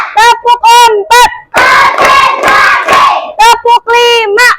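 Children in an Indonesian classroom clap their hands in rhythmic groups of sharp, loud claps between bursts of chanted voices, following a counted clapping game.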